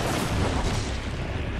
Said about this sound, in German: weil ich es einfacher finde, mit TMP auf ihn zu schießen